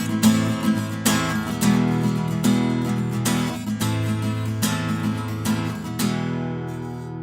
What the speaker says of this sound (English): So this is what it sounds like when you use a pick and you strum.